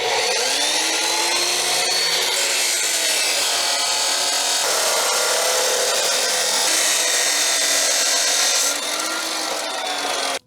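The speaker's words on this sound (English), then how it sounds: "let's see if it'll run this chop saw while running the 2 heaters" A chop saw cuts continuously while drawing power from an Oupes Guardian 6000 portable power station that is also running two heaters at maximum; the loud, steady grinding whine fills the whole clip and cuts off abruptly at the end, with no talking.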